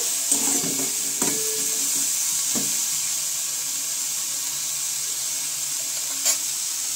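Cauliflower florets frying in a little oil give a steady soft sizzle, with a few clinks of a spatula or pan near the start and again near the end.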